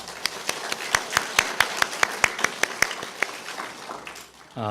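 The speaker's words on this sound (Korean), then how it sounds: "우리 귀한 찬양대 하나님께서 크게 앞으로도 귀한 사명 잘 감당하러 박수로 격려하겠습니다" A church congregation claps for the choir after a hymn: a steady run of sharp, evenly spaced claps, fairly close and moderately loud, ending abruptly.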